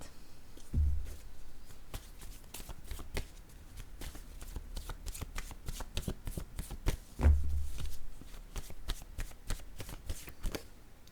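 Tarot cards being shuffled and drawn, with a steady close riffle of rapid card flicks and two heavier thumps of the deck, no talking.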